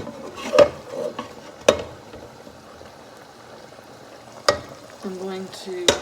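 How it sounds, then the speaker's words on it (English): Hash bubbles and sizzles steadily in a pan, cooking fast, with a few sharp clinks and scrapes of a utensil against it. "I don't know if you can hear it kind of boiling"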